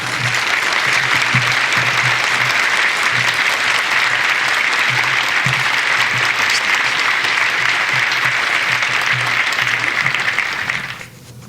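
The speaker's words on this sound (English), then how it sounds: "with a warm round of applause, if you please, welcome Dr. Kikasola." Forum audience at a lecture on political reforms in the Middle East gives a speaker a warm welcome with loud, sustained applause that holds steady for about ten seconds before tapering off quickly.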